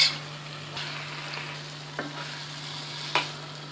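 Gongura chicken curry being stirred in a pan, with soft scraping and a low steady sizzle, plus a few sharper clinks of the spoon against the pan.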